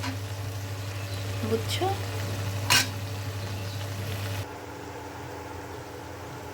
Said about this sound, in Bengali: এখন এই শাকের পানি শুকিয়ে যাবে বন্ধুরা, আর আলু দিয়ে ভাজা ভাজা করে নেব